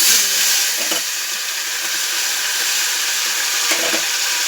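Amudi fish marinated with salt and turmeric sizzling in hot oil in a pan, a steady close hiss and crackle with occasional soft pops and utensil taps.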